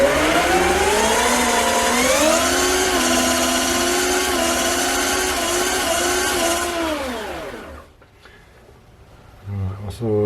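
Electric motor of a 1/3 scale V10 RC car winding up on a dyno, a loud harmonic whine that holds, dips and rises in pitch, then cuts off abruptly and leaves near silence before a brief bump of noise.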